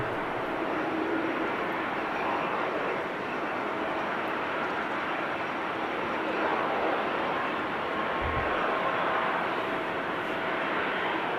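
An Airbus A380 airliner taxiing at an airport gives a steady, distant jet-engine roar that holds evenly for the whole stretch, with no clear change in level.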